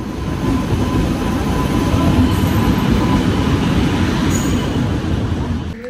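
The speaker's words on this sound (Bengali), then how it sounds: "এই কাঞ্চনকন্যা প্রবেশ করছে নিউমাল জাংশনে" Kanchankanya Express train, LHB coaches, rolling into New Mal Junction: a steady, loud rumble of wheels on track with faint squeals, continuous and close, no talk.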